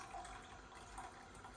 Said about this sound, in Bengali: তো অল্প একটু পানি দিচ্ছি